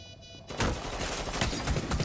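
Gunfire erupts from enemies in the video game Rainbow Six Siege after a half-second of quiet, a dense, rapid volley of shots continuing to the end at moderate level.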